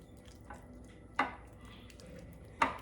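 Mashed refried beans are stirred in a pot with a utensil, giving two sharp scraping clanks against the pot and soft wet squishing in between, close and fairly quiet, with no talking.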